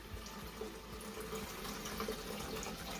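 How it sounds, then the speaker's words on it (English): About a liter of carbonated water poured into a jug, a continuous soft splashing and fizzing stream, quiet and close, no talk. "we want to make sure that we're adding the carbonated water first"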